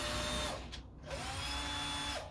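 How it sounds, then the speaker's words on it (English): A power drill spins a wire wheel against trim from a Bedford CA, a steady high-pitched whine that runs almost throughout, with a brief dip as it slows and restarts. "Let's put my wheel on my drill and just try a wire wheel and see if I can get the stuff out from inside there."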